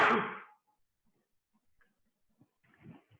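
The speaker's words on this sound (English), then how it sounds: "I'm about to sneeze." A single loud, close sneeze bursts out at the very start during a math lesson, then fades into near silence with a few faint, soft rustles near the end.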